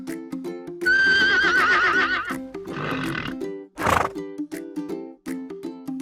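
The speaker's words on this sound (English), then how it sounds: "H is for horse." A horse gives a loud, drawn-out whinny with wavering pitch, then a short snort, set over light, steady background music.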